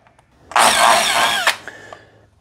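A 90-degree drill with a 1/8 inch bit bores a pilot hole in a center-punched bracket, giving one loud, close whine of about a second that stops abruptly, with faint handling clicks after.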